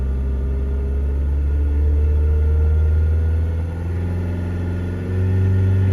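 A diesel car engine revving up from its normal idle toward 4,000 rpm, a close, loud mechanical drone whose harmonics climb steadily in pitch, with brief dips in level.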